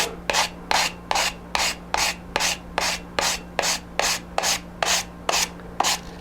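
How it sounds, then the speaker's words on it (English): A model aircraft canopy being sanded by hand: a steady run of about fourteen even rasping strokes, close and fairly loud, over a low constant hum, with no talking. "Sand this up front, smooth it out."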